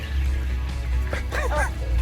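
A dog named Bella, out on a walk, gives a few short yips and barks close by against steady background rumble, with a pitched vocal burst toward the middle.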